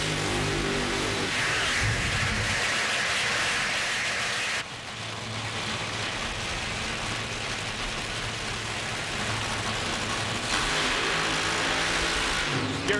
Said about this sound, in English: Now the cars have fired.